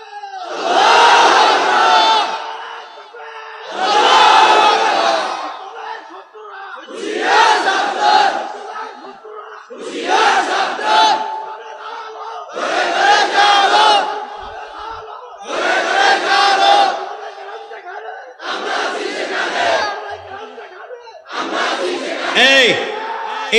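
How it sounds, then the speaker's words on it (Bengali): A crowd chanting takbir (Allahu Akbar) in a series of loud, roughly evenly spaced collective shouts, about eight bursts each lasting a second or two, separated by brief pauses. "ভালো তাকবীর দিতে পারেন এমন একটা যুবক দেখে দাঁড়ায় তাকবীর দাও তুমি।"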